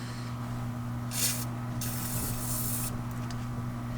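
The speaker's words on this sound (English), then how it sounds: "I'm going to go ahead and spray my lube on there" Two close bursts of aerosol lubricant spray hiss onto a Toyota Tacoma or 4Runner gear shifter, the second longer, with a faint third puff, over a steady low electrical hum.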